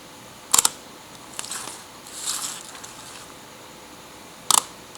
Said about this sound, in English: the Leica has a much quieter shutter than that of the copy